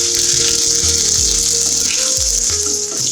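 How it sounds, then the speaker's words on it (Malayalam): Dried red chillies sizzle in hot oil with mustard seeds and fenugreek for a Kerala sadya rasam, a loud and steady close frying hiss that runs throughout, with no talk. "കടുകും ഉലുവ നന്നായിട്ട് മൂത്തേമ്പോക്കും ഒരു 3-4 വറ്റൽമുളക് ഒന്ന് ഇട്ട് കൊടുക്കാം കേട്ടോ."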